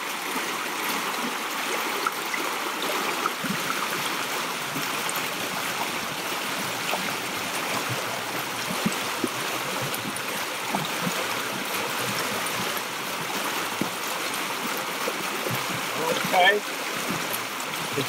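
Water pours steadily through an opened sluice gate on an acequia irrigation ditch, draining a small pond in a constant rushing flow close by, with faint talk beneath.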